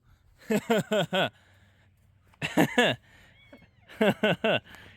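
A cat meows three times in close succession, each time as a short clear cry, and the sound comes in separate bursts with quiet low engine-room hum between them while someone works on a 1995 Plymouth Voyager with a 3.0 V6.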